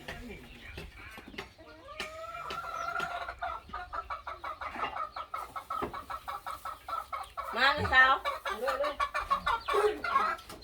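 Farm chickens cluck in short repeated bursts through the clip, with a sharper squawking flurry near the end, while someone talks over them close by.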